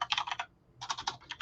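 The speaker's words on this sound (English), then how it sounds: "I'll type in chat here." Quick, soft keystrokes on a computer keyboard come in two short bursts of several rapid taps separated by a brief pause.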